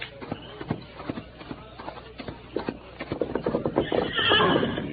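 Horses neighing and hooves clip-clopping in an old-time radio western drama, several whinnies over a steady clopping rhythm that grows louder and busier toward the end.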